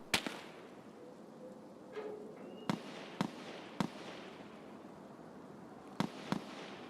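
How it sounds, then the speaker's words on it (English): Sharp, distant video game gunshots crack out singly and in pairs over a quiet background, a few spaced bursts with no talking. "What are they shooting at out there, though?"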